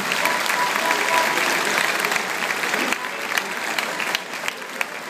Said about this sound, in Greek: Στείλτε του την αγάπη σας με ένα θερμό χειροκρότημα.